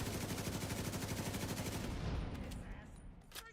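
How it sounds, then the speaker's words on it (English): Rapid automatic fire from a hacked turret in the video game Division 2, a steady stream of rounds for about two seconds that then trails off into a quieter tail. "Hacked turrets, those are annoying"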